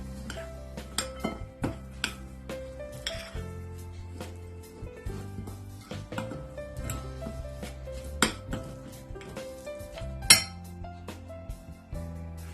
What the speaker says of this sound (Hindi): इन तमाम चीज़ों को मैं मिक्स करूंगी।